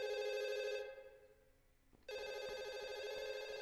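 Telephone bell ringing in a horror video game: a steady electronic ring that stops for about a second and then resumes, loud and alone.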